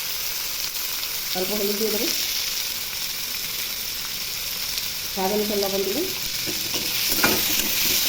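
Tomatoes fry in a pan after onions, with turmeric and salt added, making a continuous loud sizzle and stirring scrapes while someone talks over it briefly.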